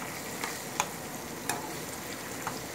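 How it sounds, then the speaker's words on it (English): Garlic powder and other seasoning sauté in a pan for corned beef, a soft continuous sizzle with a few sharp ticks and taps scattered throughout. "And now we're going to saute this, okay? The seasoning, we're going to saute."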